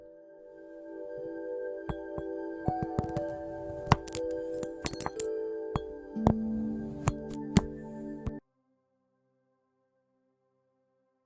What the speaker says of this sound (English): Let's keep cutting glass, guys.